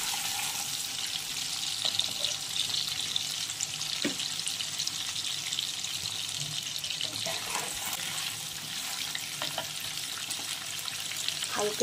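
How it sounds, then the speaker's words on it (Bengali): Paneer cubes fry lightly in a pan with a steady, close sizzle and crackle that runs throughout, with a few faint clinks or stirs and no talking. "পনিরটা আমার দেখো হালকা হালকা ভাজা হয়ে গেছে।"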